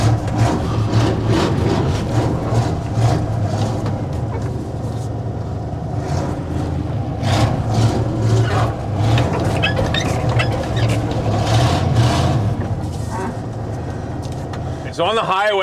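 Old V8 pickup truck engine and exhaust droning steadily from inside the cab while driving on the highway, a loud low rumble throughout with someone talking over it.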